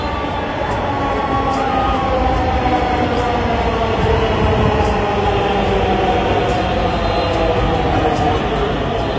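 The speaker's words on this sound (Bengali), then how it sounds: "অবশেষে আমাদের ট্রেন চলে আসছে" A train pulls into a station, a loud continuous rumble and rolling hum filling the whole stretch, close and steady with no speech over it.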